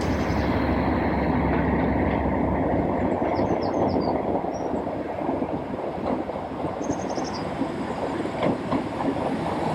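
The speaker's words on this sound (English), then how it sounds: "Class 37 is going to explode out of that tunnel as it comes into the station." Class 37 diesel locomotive hauling a train into a heritage railway station, a loud, steady broadband rumble and rattle of wagons that holds throughout, close by, with no voices.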